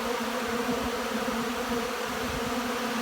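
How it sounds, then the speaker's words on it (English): A loud, dense drone of many bees buzzing close up, a continuous swarming hum that rises and falls slightly, with no talking. "So many bees."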